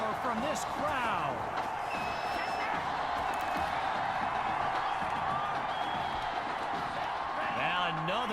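Stadium crowd roars in the football video game Madden 21, a dense, steady wall of noise filling the whole stretch while a commentator talks over it.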